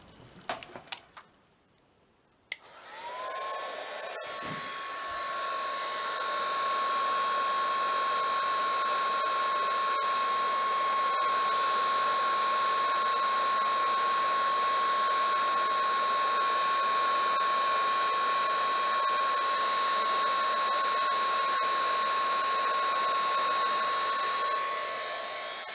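A heat embossing tool switched on to melt embossing powder on a craft project: a few handling knocks, then a steady high-pitched fan whine and whoosh that carries on loudly with no talk.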